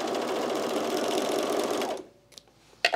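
Sewing machine stitching a seam on a pair of pants, a loud, steady mechanical whir that runs without a break for about two seconds and then stops, leaving near silence with a couple of small clicks.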